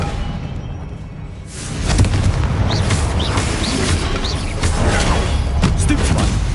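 Confringo explosion spell in a Harry Potter video game, a loud booming blast that swells into a sustained rumbling roar with whooshing effects layered over it.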